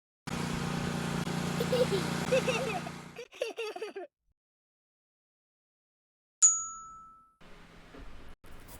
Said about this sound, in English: That grass is too long. Let's mow it.